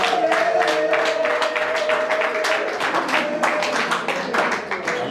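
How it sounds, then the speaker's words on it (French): Guests at a civil wedding applaud the bride, a dense, close round of hand clapping that continues steadily, with a faint sustained tone and murmur underneath. "Applaudissez pour Myriam"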